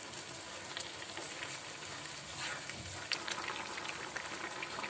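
Carrot halwa with melting sugar cooks in a pan, giving a faint, steady low sizzle and bubbling with occasional soft stirring scrapes.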